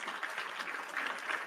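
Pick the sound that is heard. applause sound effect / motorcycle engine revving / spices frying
applause sound effect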